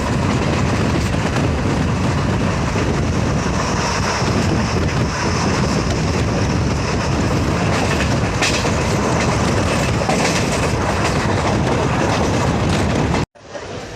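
A train running through Usmanpur railway station on the Parbhani–Jalna line rumbles loud and steady for thirteen seconds, with faint clickety-clack and wind buffeting, before the sound cuts off abruptly near the end.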